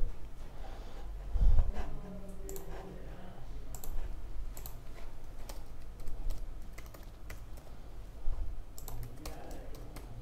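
Rapid typing on a computer keyboard while logging in to an income tax website, with a run of close, irregular clicks and key taps and some breathing nearby.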